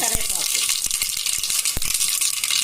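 Curry leaves dropped into hot oil already holding mustard seeds and cumin, crackling and spitting in a loud, dense sizzle with sharp pops scattered throughout.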